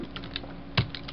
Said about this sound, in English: I'm just going to type it again